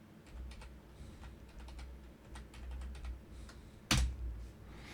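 Quick runs of keystrokes on a computer keyboard as a command is entered in a Kali Linux terminal, close and crisp, ending in one louder key strike near the end, no talking.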